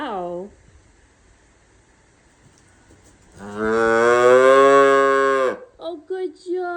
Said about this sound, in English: This cow has an insane moo compared to its size.